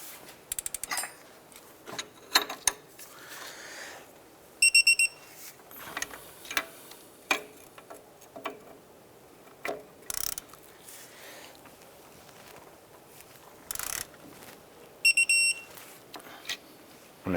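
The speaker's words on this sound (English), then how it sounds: "Let's go ahead and torque our upper strut bolts" A torque wrench tightens the upper strut bolts on a 2001–2007 Ford Escape during a wheel bearing and hub replacement, giving repeated sharp metallic clicks and ratcheting bursts spread across the span, close and fairly loud, with no talking.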